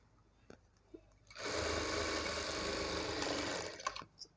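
A sewing machine stitching blouse cloth runs in one steady, fast mechanical whir for about two seconds, preceded and followed by a few small clicks and handling knocks.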